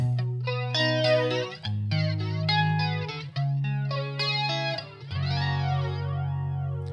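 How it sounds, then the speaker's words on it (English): Distorted electric guitar chords through a phaser effect on a Boss Katana amp, sweeping and swirling, played loudly in sustained bursts with brief gaps between changes. "Sounds like it's phaser. That's a phaser, isn't it?"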